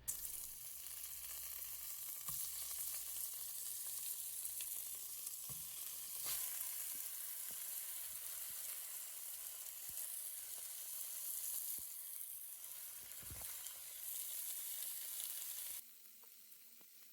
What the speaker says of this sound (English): Test the pot with a piece of meat to make sure that it will properly sear